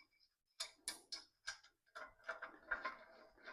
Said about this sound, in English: So you tighten up one bolt on one side and then one bolt on the other.